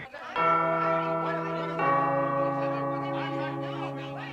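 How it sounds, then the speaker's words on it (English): A two-tone doorbell chime rings out clearly, two sustained bell notes struck in succession and left to ring, with faint chatter in the background. "show up with an increasingly harrowing doorbell announcing their arrival"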